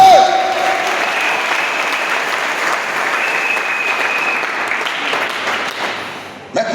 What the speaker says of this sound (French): une acclamation à Dieu